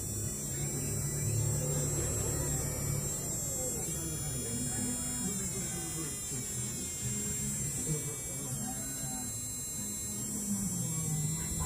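Electric fish shocker device for tilapia fishing emits a continuous buzzing hum whose pitch shifts and wavers as its frequency is adjusted, steady and close, with someone talking quietly at times.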